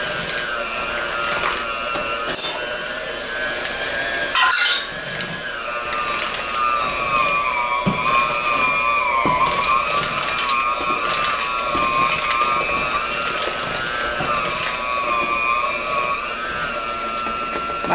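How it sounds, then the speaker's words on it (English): A small battery-powered electric hand mixer works through sticky fig dough, its motor whining steadily up close, with the pitch rising and sagging as the beaters strain, plus occasional knocks against the bowl. "So I'm going to do it with the mixer as long as I can."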